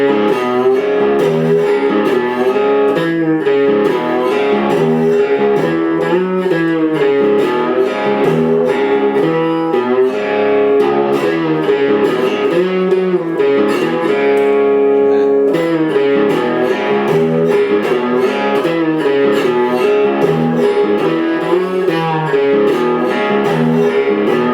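Guitar plays the intro of a song as a loud, continuous stretch of ringing notes and strummed chords, with no talking over it.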